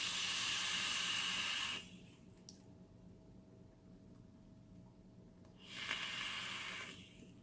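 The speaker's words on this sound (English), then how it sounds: "And as always, vaping at 75 watts." A vape drawn at 75 watts with strawberry yogurt e-liquid produces a steady, close hiss lasting about two seconds, then quiet, then a second shorter hissing pull, with no talking.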